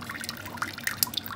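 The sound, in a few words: water being poured and splashed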